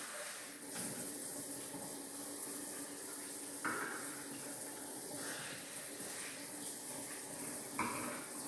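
Tap water runs at a kitchen sink to fill cans for cooking rice, a quiet steady stream with a few brief knocks and clinks of the cans.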